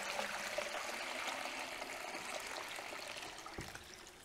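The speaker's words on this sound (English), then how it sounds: "you grab another wee net and pour that water through the net" Water is poured from a bucket through a net during seagrass seed processing, a steady, moderately faint rushing stream that continues evenly, with a single soft knock near the end and no talking.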